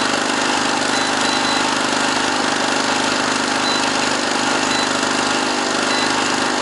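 An electric generator under repair runs at a steady, loud, unbroken mechanical hum and buzz, close by and constant throughout, with no voices.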